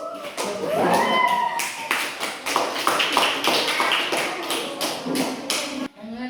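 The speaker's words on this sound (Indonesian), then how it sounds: "tepuk tangan dulu untuk Hafiz" A class claps for a student named Hafiz, a run of distinct, sharp hand claps from a small group in a room, with a voice heard at the start.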